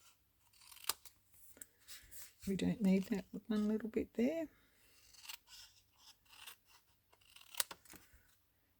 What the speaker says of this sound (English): And then I just use my scissors,